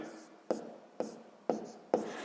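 A pen writes figures by hand on paper during a sixth-grade maths exercise with fractions, giving faint scratchy strokes broken by four sharp taps at roughly half-second intervals, with no voices.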